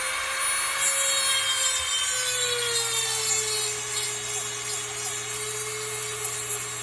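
Small Dremel rotary tool with a grinding rod beveling a blade edge in a blacksmith's shop, a steady high-pitched whine with a slight pitch drop, continuous and close, with no talking.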